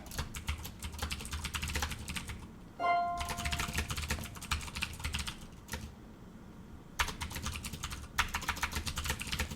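Rapid clattering keystrokes on a loud mechanical keyboard, steady and close, broken by a few brief pauses and a short tonal beep partway through.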